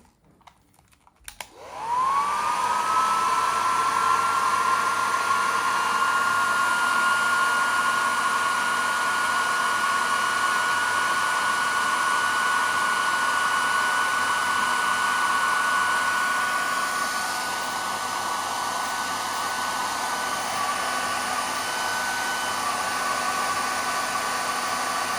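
A hair dryer switches on and runs loud and close with a steady whooshing airflow and a high whine, keeping a constant drone before its tone drops slightly partway through.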